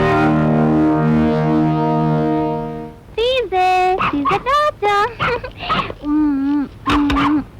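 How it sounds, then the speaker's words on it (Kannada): A dog gives a run of sharp, loud yelping barks in quick, uneven bursts, after a sustained droning tone at the start. "ಯಾವ ನಾಯಿನ ನೋಡಿ ಬೊಗಳ್ತಾ ಇದ್ದಾನೆ?"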